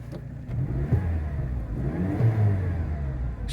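Saab 900 Turbo convertible accelerating, a mid-pitched engine pulling steadily with two rising revs, the exhaust loud and close throughout with no talking.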